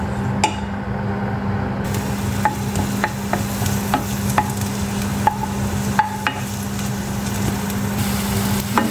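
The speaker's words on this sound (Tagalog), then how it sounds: "Hintayin natin na maging brown yung onion at saka garlic." Onion and garlic frying together in a pan, a steady close sizzle under a low hum, with sharp spatula scrapes and clicks against the pan recurring every second or so.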